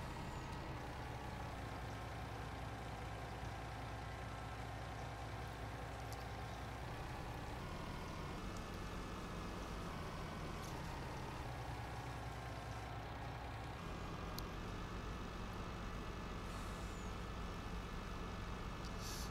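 A milk truck in Farming Simulator 19 drives off with a steady, loud engine drone and a hiss like an air brake, continuous and close, with no talking.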